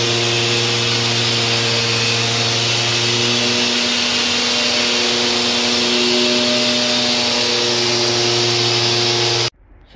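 Power sanding of an epoxy floor surface with 180-grit sandpaper produces a loud, continuous whirring hiss with a steady motor hum, close by and unbroken for nearly ten seconds before cutting off abruptly.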